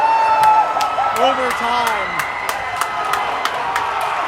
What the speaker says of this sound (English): Listen to the crowd right now.